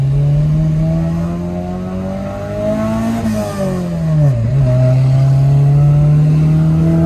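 A car engine holds a loud, steady drone, eases slightly, then dips and swells again in a revving surge. It is close to the listener, with no voices over it.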